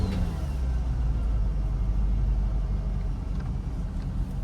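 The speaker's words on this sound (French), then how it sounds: "Maintenant on va démarrer la caisse et on va essayer." Car engine running at a steady idle after a restart following an air conditioning recharge, a continuous low rumbling drone with no speech.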